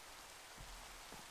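Rain falls in Minecraft with the Terrafirmacraft mod, a soft, steady hiss of drops on surfaces with a couple of faint low thumps, heard alone.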